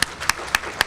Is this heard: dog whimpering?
no